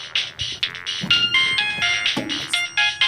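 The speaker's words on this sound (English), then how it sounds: "That's my cell phone." A cell phone ringtone chimes repeatedly in a church skit, a bright electronic melody in short bursts with brief gaps, fairly loud and alone with no talking.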